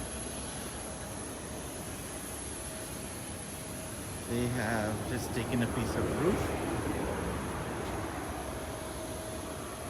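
Aircraft engine noise at Singapore Changi Airport, heard from an outdoor rooftop cactus garden: a steady distant roar that swells midway as a plane passes or takes off, with people talking nearby over it.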